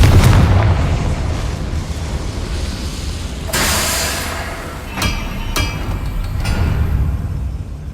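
Fiery explosion spell cast in the Hogwarts Legacy video game, a loud crackling blast with rumbling debris, followed by a few sharper bangs and a sustained roar.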